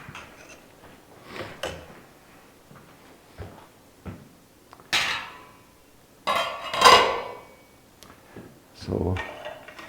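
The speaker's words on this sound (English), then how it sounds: "Stir them around, put them in there." Food being stirred in a pot, with irregular metallic clanks, scrapes and knocks of a utensil against cookware. Some are soft, a few are louder bangs, and a voice speaks intermittently between them.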